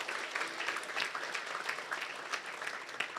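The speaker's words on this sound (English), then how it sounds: "Let's give them a round of applause." A church congregation claps in sustained applause, a dense, even patter of many hands, moderately distant and fairly soft, with no voices standing out.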